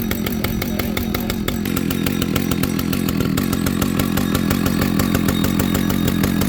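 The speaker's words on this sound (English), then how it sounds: "The second I heard this 2100 start, I instantly became a Husqvarna fan." A vintage Husqvarna 2100 chainsaw runs close by. Its engine holds a loud, steady, throbbing drone with no pauses.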